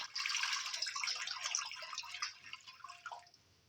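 Water pours steadily into a pressure cooker pan, a bright splashing stream that thins and trickles off at the end.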